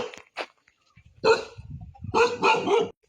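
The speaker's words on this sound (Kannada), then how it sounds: "ಯಾರೇ ಯಾವ ಥರ ಬೊಗಳಕತ್ತೈತಿ ನೋಡಿದ. ಏಯ್ ನಾಯಿ ಚುಪ್" A dog in a hillside village near Guddali Peak, Karwar, barks in a few short, close bursts separated by brief pauses, loud and clear with no one talking.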